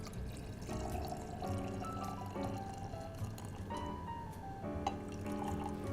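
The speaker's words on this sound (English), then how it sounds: "topped off with some champagne or quality sparkling wine" Champagne pours into a Hemingway cocktail of absinthe, a close, quiet stream of liquid with rising glugging tones as the glass fills in a few short pours.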